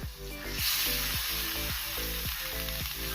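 Prawns hit a pan of spiced masala and sizzle steadily, a close hiss with regular scraping stirs of a spoon repeating about every half second.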